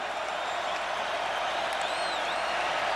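Football crowd at Ross-Ade Stadium in a Purdue versus Illinois game rising to its feet, a broad steady roar of cheering and applause filling the stadium, loud and unbroken, with a whistle faintly over it.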